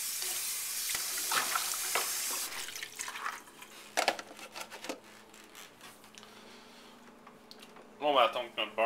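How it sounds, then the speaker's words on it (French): Butter sizzles and melts in a frying pan for an Hungarian omelette, a loud hiss at first that settles to a softer crackle, with stirring clinks and a voice talking near the end. "On va attendre que notre beurre fonde."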